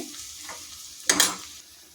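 Onions frying in a pan for gongura sorrel leaf curry, a soft steady sizzle broken by one louder scrape of a stirring spoon partway through.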